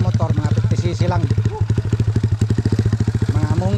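Small 50cc motorcycles such as a Honda Monkey and XR50 run with a steady low putter and rapid clattering engine pulses, close by, with people talking over the engine noise.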